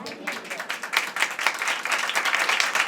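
A church congregation at a Sunday service breaks into lively applause, a dense, continuous patter of many hands clapping at close range.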